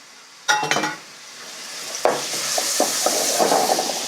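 Garlic dropped into olive oil in a pan: a sharp burst of crackle, then a hiss that builds into a steady, bright sizzle, broken by a few clinks of a utensil, with no voices.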